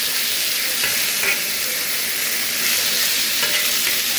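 Cuban style beef frying on a hibachi griddle, a loud, continuous broadband sizzle that holds steady throughout, close up with a few faint scrapes and no voices.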